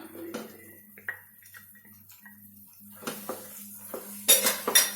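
Roasted-gram halwa with cashews, cardamom and ghee being stirred in a pan, with a ladle scraping and clinking against the metal in scattered strokes. Sharper clatters come near the end over a low steady hum.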